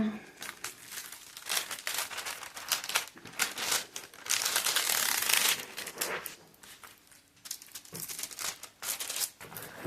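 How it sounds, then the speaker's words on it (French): Plastic packaging is crumpled and crinkled by hand during an unboxing, a busy stream of close, loud rustles and crackles with brief pauses between bursts. "On va remettre le plastique."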